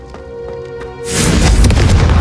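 Hogwarts Legacy Confringo fire spell blast: a sharp, loud booming burst that swells up suddenly after a quiet hum, then roars and crackles close by.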